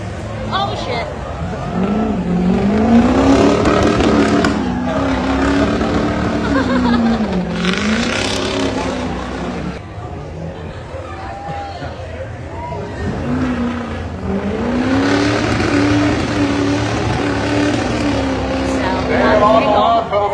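A 2007 Ford King Ranch pickup with a 6.0 Powerstroke diesel revs hard at a Hartford Fair rough truck event, its loud engine note rising and falling in long sweeps over crowd noise.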